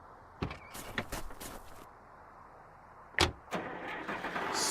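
In the adventure game Runaway 2, a car engine is started after a spark plug is fitted: a few sharp mechanical clunks and clicks followed by a rising mechanical noise, moderately loud and with no talking.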